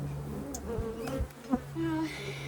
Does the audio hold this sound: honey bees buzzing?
yes